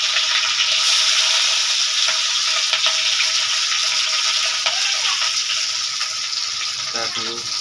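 Capsicum sizzles and fries in a pan while chana masala is cooked, a steady loud hiss with stirring clatter, a voice briefly talking near the end.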